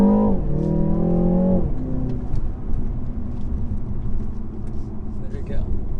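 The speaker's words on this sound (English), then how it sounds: "I'll probably do a little pull in my car in Sports Plus mode" A BMW G20 330i fitted with a JB+ tune pulls hard in Sports Plus mode, a loud droning engine note climbing in pitch for a moment, then settling into a steady low road rumble from inside the cabin.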